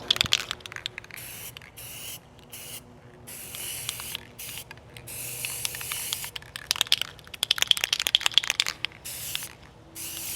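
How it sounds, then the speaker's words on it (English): Repeated bursts of aerosol spray hiss close by as a bike chain is sprayed, short and long sprays separated by brief pauses, with light scraping between. "don't forget to spray your chain while you're at it too"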